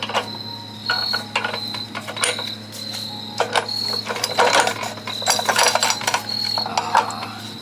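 Minibike fitted with a torque converter CVT running, giving a busy rattling, clicking mechanical chatter with irregular ratchet-like ticks over a steady low hum, fairly close and without speech.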